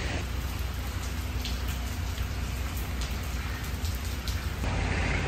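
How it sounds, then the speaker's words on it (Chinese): Steady rain pours down at dawn near a beach toilet block on the Changi shore, a dense, even hiss of drops hitting surfaces close by, continuous and unbroken with no talking. "下雨了，所以我们就在这个厕所的地方在这里躲雨"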